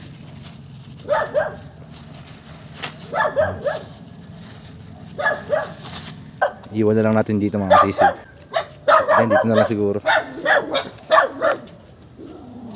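A dog barks repeatedly in short bursts nearby while a person talks over it.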